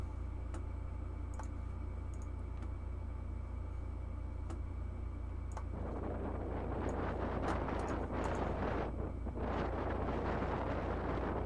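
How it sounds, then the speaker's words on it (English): Steady wind buffets the microphone with a low rumble, turning gustier and noisier about halfway through. "A little windy."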